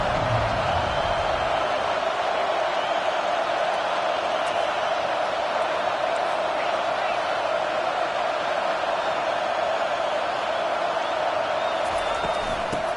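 Steady, dense roar of a large football stadium crowd during an Ohio State college game, continuous and loud throughout with no breaks or distinct cheers standing out.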